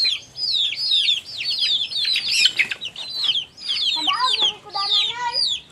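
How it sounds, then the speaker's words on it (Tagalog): Farmyard chickens on a rural Philippine farm, a busy run of close clucks and squawky calls in quick overlapping bursts, fairly loud with short pauses, a little human sound faintly underneath. "Ang mga manok, hangad-hangad din sila."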